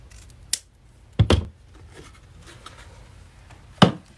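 Scissors cut through the ribbon tail of a bow on a spring grapevine wreath, three short sharp snips spaced apart, close and fairly loud with no talking.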